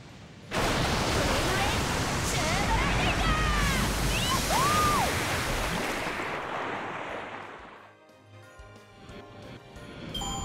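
A big wave crashes in a video game, a sudden broad roar of surf and spray that starts abruptly, holds loudly for several seconds and then fades, with some whistling tones and music underneath.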